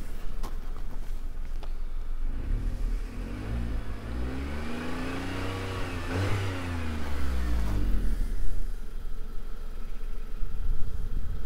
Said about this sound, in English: I'll show you, I'll give you a little rev.